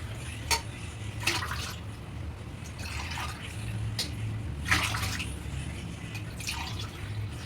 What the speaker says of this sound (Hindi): डाल देती हूँ 1 लीटर पानी। 1 लीटर और थोड़ा और डाल देती हूँ।